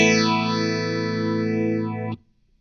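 Sustained electric guitar chord through a Positive Grid Modulation Twin pedal's compressor set to 6 volts, gritty and compressed with a slow swirling sweep, ringing loud until cut off abruptly near the end.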